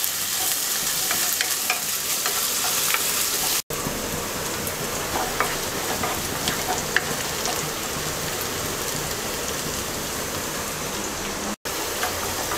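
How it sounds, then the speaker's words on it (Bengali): Chopped onion sizzles in hot oil with a dense, even crackle and occasional stirring scrapes, running close and loud throughout with two brief dropouts; no voices. "তেলটা গরম হয়ে গেছে, দিয়ে দিচ্ছি 1/2 কাপ পেঁয়াজ কুচি। পেঁয়াজটাকে হালকা ভেজে নেব।"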